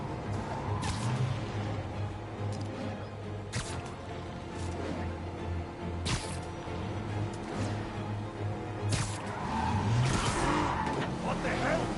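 In the Spider-Man PS4 video game, a car skids and screeches through a chase, tires squealing repeatedly over a continuous engine roar with sharp bursts of impact and action noise.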